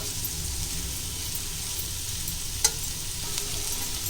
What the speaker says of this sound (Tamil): இப்போ இதை நல்லா நம்ம இப்படி கிளறி விட்டுட்டு